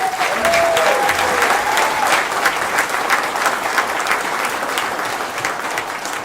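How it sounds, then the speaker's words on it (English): Sustained applause from a ceremony audience, dense and loud throughout with scattered cheers over the clapping. "Let's give them another round of applause"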